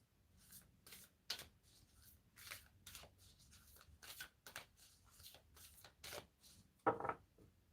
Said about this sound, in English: Just shuffle all the cards, clear the energy.